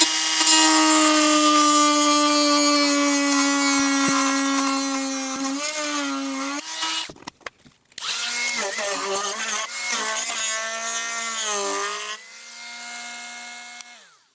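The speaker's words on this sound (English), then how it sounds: "I'm going to take the Dremel and just follow the little line I made and cut that circle out" A Dremel rotary tool cuts a circular hole for a grommet. Its high-pitched motor whine rises and falls as it bites into the material, stops briefly midway, then carries on loud and close.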